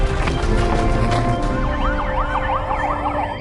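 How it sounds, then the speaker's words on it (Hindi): A police car siren wails, sweeping up and down over a steady rumbling engine and broadband noise, loud and close. "तुरंत बत्ती और सायरन बंद कर दो।"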